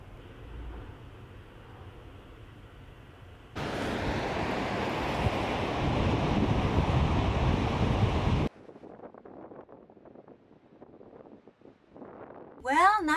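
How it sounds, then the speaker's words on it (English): Strong wind gusts roar across a microphone on the Big Sur ocean coast near whitecapped surf, building to a loud sustained rush midway before easing into quieter bursts with a voice briefly heard. "the rain has stopped, but the wind has picked up"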